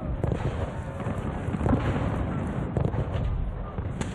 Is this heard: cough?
no